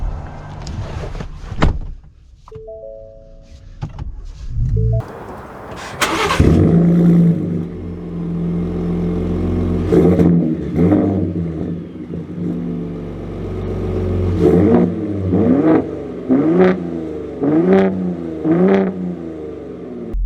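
A 2023 Ford F-150 Raptor truck starts up and pulls away, its engine rising through several distinct revving surges over a steady rumble, close and fairly loud, with no talking.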